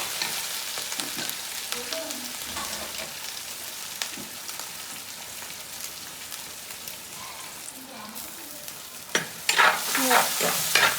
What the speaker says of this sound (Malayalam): വെളുത്തുള്ളി ഇഞ്ചി ചതച്ചത് ആ എണ്ണയ്ക്കകത്ത് നമ്മൾ തേങ്ങ കോരി എണ്ണയ്ക്കകത്തോട്ട് ഇടുക.